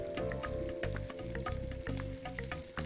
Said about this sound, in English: You're looking to brown all sides of the onions.